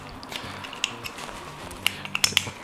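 A speedloader for a Dan Wesson 715 revolver is handled, giving scattered small metallic clicks and snaps, a few sharper ones near the end, close up over quiet room tone.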